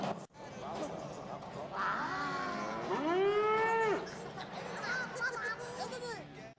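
A cow moos in the video game Rabbids Go Home, giving a long drawn-out low call that rises and falls over several seconds amid background game noise.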